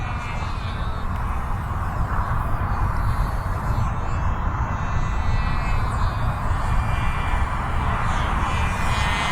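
A Thunder Tiger Mitsubishi A6M5c Zero RC model fighter plane on its maiden flight, its engine droning steadily and loudly throughout, fairly close overhead with a constant buzzing whine and no talking.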